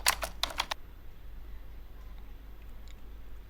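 Fingers type on a computer keyboard to enter a text label in trading chart software, giving a quick cluster of close, crisp keystrokes at the start, then near quiet with a few faint clicks.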